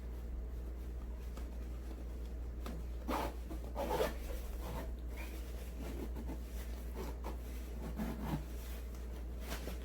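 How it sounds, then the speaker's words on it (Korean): A zipper is pulled shut on a cushion cover of about 50 by 50 cm thickly stuffed with cotton filling, closing tightly in short, faint scratchy bursts over a low steady hum, with no talk. "이렇게 솜을 넣어주시고 지퍼를 닫을게요."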